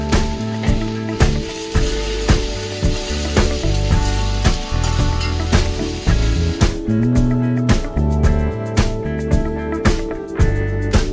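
Bhujia fries in a pan at home with a steady, close sizzle, broken by frequent light clicks and clatters from stirring that keep a loose rhythm throughout.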